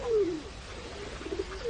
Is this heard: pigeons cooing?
yes